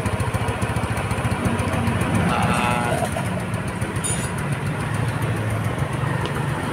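A Rusi Gala motorcycle idles steadily and close by after a one-click electric start, with an even low engine rumble running throughout and no throttle revving.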